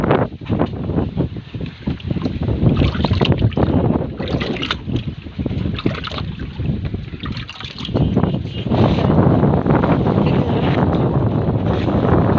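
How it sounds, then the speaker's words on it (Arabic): Strong wind gusting outdoors in a home garden where potatoes and carrots grow in sacks, a loud continuous rushing buffeting the microphone throughout, with no voices in between. "الهواء، يمكن الهواء اللي بيوقع الزهر ده"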